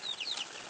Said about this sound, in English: And here comes some of the chickens.